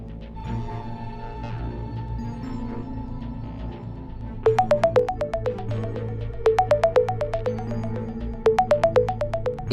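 Soft background music plays, then a phone ringtone begins with a repeating bright melodic chime in bursts, loud and close.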